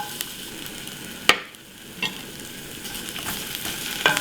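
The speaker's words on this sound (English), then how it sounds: "In medium heat, let's put down ginger and the garlic." Ginger and garlic fry over medium heat in a wok for Sichuan twice-cooked pork belly, a steady close sizzle with a few sharp clinks of a utensil against the pan.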